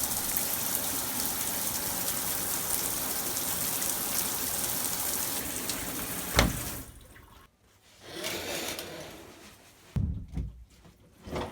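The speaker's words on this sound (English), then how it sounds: "We'll turn on the water and see if it really does keep water out." A strong water spray drums against a Ridgid Pro Mobile tool storage box, loud and continuous for several seconds, then cutting off into bursts and pauses.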